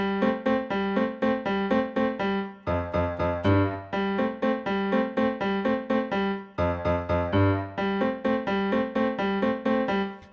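A piano plays a simple tune, with bouncy repeated chords and a driving bass pattern in a steady rhythm, close and clear with no voices.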